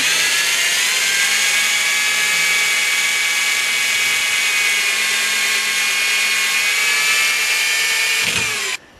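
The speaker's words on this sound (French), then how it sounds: "il faut que je commence par faire un trou au centre" A power drill bores a hole in the center of a workpiece, a loud, steady high whine held for about nine seconds before it abruptly winds down and stops.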